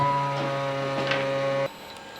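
A DIKEIBAS vacuum sealer's steady mechanical hum with a strong low drone runs for about a second and a half, then cuts off abruptly, leaving faint background hiss.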